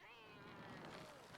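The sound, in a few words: cat meowing noises in video game Trials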